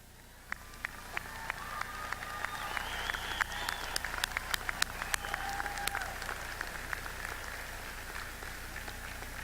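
Applause at a university commencement ceremony as families stand, scattered individual claps building into a moderate round from a distant crowd in a large hall, then thinning out.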